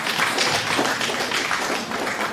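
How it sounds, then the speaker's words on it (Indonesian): An audience applauding at an inauguration ceremony, a dense and steady wash of clapping from many hands that keeps going at an even level throughout. "Tepuk tangan sekali lagi."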